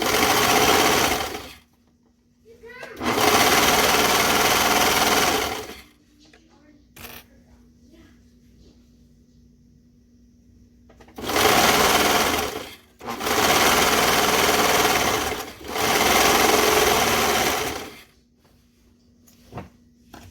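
Sewing machine stitching the curved seams of knit joggers in loud bursts: two long runs, a pause with a faint hum, then three more runs close together, with brief quiet gaps and small handling clicks between them.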